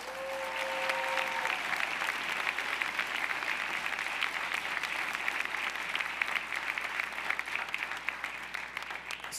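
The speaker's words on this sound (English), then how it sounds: "A big round of applause for Speaker Melissa Mark-Viverito." A crowd at the 2016 New York City State of the City address applauds Speaker Melissa Mark-Viverito in a steady, thick wash of clapping. A brief tone rings at the start, and the whole ovation sits somewhat distant and soft.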